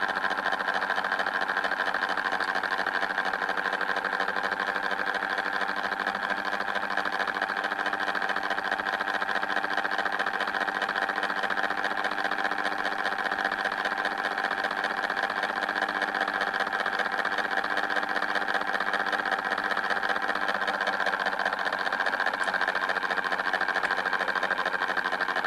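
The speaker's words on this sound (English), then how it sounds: "I'm adjusting the motor speed to see if I can get something a little bit more" An electric motor spins steadily on a homemade mechanical television set while its speed is adjusted, a continuous whirring drone with a strong mid-pitched hum holding level throughout, close and alone without talk.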